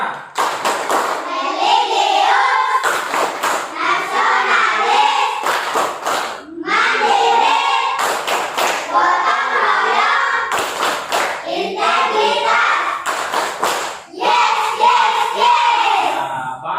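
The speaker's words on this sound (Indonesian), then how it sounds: "Tepuk PPK" A fourth-grade class performs the rhythmic Tepuk PPK clapping chant, children's voices chanting in unison, punctuated by sharp bursts of group claps in repeated patterns, loud and close.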